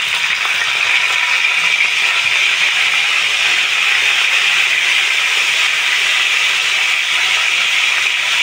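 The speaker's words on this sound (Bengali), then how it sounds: "টমেটো দিয়ে দেওয়া হচ্ছে" Tomatoes dropped into hot oil already seasoned with two bay leaves and whole cumin, giving a loud, steady, continuous sizzle and hiss with no pauses, close by and alone without talk.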